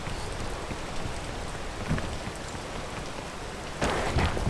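Steady rain hisses in the Roblox climbing game Peak, a dense even wash of drops that swells briefly louder near the end, with no voices over it.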